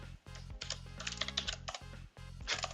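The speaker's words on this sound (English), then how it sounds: "I was typing faster than" Fast typing on a computer keyboard while working in Visual Studio, dense bursts of key clatter with short pauses, over a steady low hum, close and fairly quiet.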